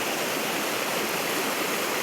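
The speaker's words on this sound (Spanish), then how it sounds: "Y mirar cómo baja el Nalón. Qué bien se escucha, ¿eh?" The Nalón river rushes through the limestone Deboyu cave in Asturias, a loud, steady, broadband roar of flowing water that fills the space with no pauses and no voices.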